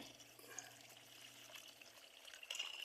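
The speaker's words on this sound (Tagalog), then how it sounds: "Lagyan po natin ng tubig." Water splashes and trickles steadily into a pan, a continuous liquid pour with a brief louder gush near the end.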